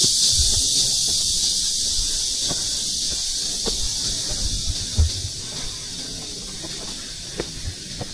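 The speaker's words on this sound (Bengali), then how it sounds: "প্রচুর ডাক, ঝিঝি পোকার কিন্তু প্রচুর ডাক।" Crickets chirping in the hill forest at Suwon Hwaseong Fortress, South Korea, a dense steady high-pitched buzzing drone throughout with faint footsteps and low rustling underneath.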